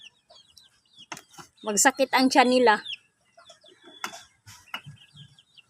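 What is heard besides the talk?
chickens clucking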